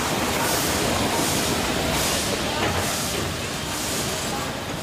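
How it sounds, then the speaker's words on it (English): A steam locomotive pulls into Pondicherry station in India, giving a steady, loud wash of hissing steam and rolling rail noise that swells and fades in pulses, with faint voices underneath. "Nothing evokes the romance of the railway like a steam engine."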